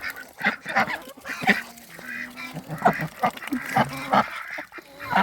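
Ducks quacking and geese honking together in a lively, continuous chorus of overlapping calls, close by in a snowy village yard, with no talking.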